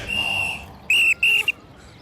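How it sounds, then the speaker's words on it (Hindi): A whistle is blown repeatedly on a street: one long shrill blast, then two short sharp toots and a brief final chirp, loud and close. "पिछले सिग्नल से सीटी पे सीटी बजा रहा हूँ"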